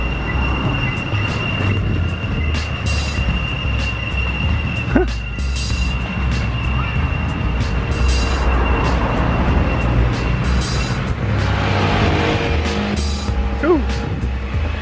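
A small children's ride train rumbles past with a steady low drone, faint wheel squeals and clatter, amid outdoor background noise in the Netherlands.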